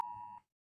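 One short electronic beep from a missile alert alarm, a clean tone lasting under half a second before cutting to silence.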